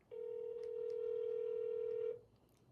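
A single steady telephone keypad tone, held loud and clear for about two seconds over faint background hiss, as a call is placed to a roofing company; no ringing is heard.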